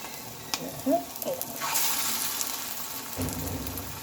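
Flattened flat bean (sim) fritters frying together in a pan, a soft continuous sizzle with a few light clinks and stirring touches, fairly quiet and without talk.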